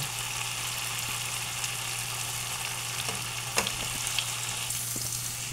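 Minced garlic frying in a pan for kangkong with tokwa, a steady close sizzle with a constant low hum beneath and a few sharp clicks of stirring.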